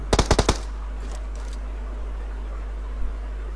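Rapid burst of about five loud automatic gunshots in PUBG on the Livik map, clustered in the first half second, then a couple of fainter distant shots over a steady background hum.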